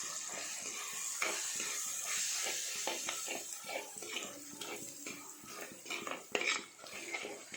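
Spices are stirred into Sankara fish curry in a pot, with close, irregular scraping and clinking of a spoon against the metal pan over a low background sizzle.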